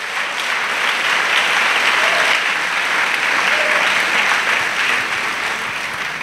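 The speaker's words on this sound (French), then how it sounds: "Clap offering to Jesus." A church congregation gives a clap offering, a dense, loud, sustained round of applause from a large crowd that carries evenly throughout.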